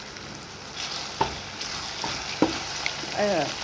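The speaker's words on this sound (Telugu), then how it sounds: "నెక్స్ట్ వచ్చేసి అల్లం వెల్లుల్లి పేస్ట్ వేసుకుందాము." Ginger garlic paste frying with tomatoes for masala boti curry, a continuous close sizzle broken by a few spoon scrapes and taps as it is stirred, moderately loud, no voices.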